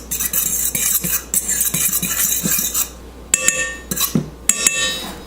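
Dry biscuit ingredients stirred in a bowl with a utensil, giving repeated clinks and scrapes, a steady scraping run followed by several sharp metallic taps, close and clear with no talking.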